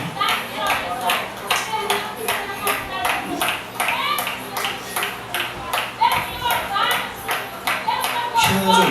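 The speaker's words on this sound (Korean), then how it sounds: "우리도 박수 치고 기도하는데요." A church congregation claps rhythmically while praying at a house-church retreat seminar, with steady repeated claps running under continuous voices.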